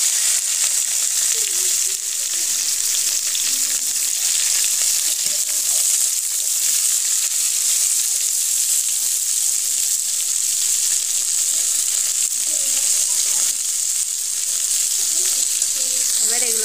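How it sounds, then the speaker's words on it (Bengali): Ivy gourd sizzles in hot oil in a pan, a steady bright crackling hiss that runs continuously, with occasional faint talk beneath it. "এবার এগুলোকে আমি ভালো করে ভেজে নেব।"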